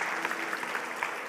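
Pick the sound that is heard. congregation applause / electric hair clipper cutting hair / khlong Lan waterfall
congregation applause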